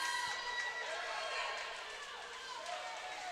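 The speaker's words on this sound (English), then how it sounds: "the crowd urging a few of the participants on as they make their way to the touch board" A crowd at a high school swim meet cheering on swimmers as they reach the touch board: a steady wash of yelling and cheering voices echoing in an indoor pool hall.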